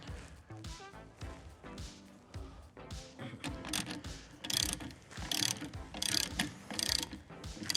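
A nut is threaded onto a bolt while mounting a light on a KC Gravity Titan LED light bar, heard as quick, close metallic ratcheting clicks that grow busier and louder toward the end.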